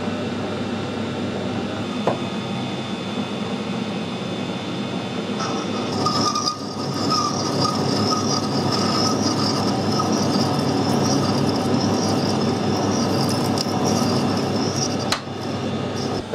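A lathe cuts a screw thread on a drill spindle, giving a steady, loud mechanical drone with a thin whine that rises midway, plus an occasional light clink, with no talk.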